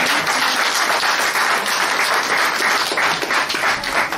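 A church congregation applauds together in sustained, dense clapping that stays loud and steady throughout, with no pauses.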